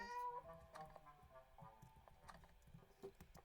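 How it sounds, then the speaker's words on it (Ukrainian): A cat meows in the Minecraft video game, a few faint cries mixed with soft clopping steps and other quiet game sounds. "О, тут є кішка, думаю."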